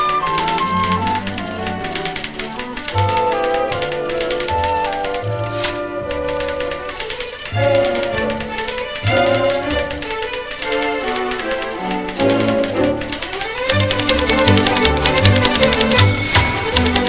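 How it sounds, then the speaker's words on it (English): Rapid, steady clatter of typewriter keys from a 1971 sitcom scene, struck one finger at a time in a dense, continuous run that fills the clip with no voices. "One finger typing."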